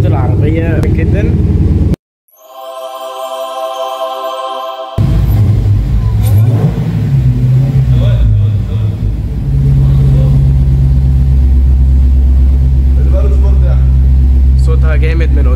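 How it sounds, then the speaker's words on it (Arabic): A supercharged Dodge Challenger SRT rumbles loudly at close range after a short break filled with a tonal musical sound, then holds a heavy idle with slight revs and a steady low growl while someone talks over it. "صوتها جامد من قدام، السوبر تشارجر عامل شغل"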